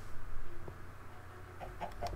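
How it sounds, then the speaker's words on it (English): A chicken in Minecraft gives a few short clucks near the end, fairly faint over a low background hum. "Oh, look, the chicken!"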